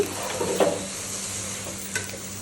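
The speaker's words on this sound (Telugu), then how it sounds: "ఇట్లా బాగా కలుపుకొని గోంగూర కూడా టోటల్గా మొత్తం స్మాష్ అయిపోవాలండి బాగా మగ్గించుకోవాలి" Gongura leaves and chicken stirred in a pan, a few soft scraping strokes over a steady low sizzle, close and fairly quiet with no voices.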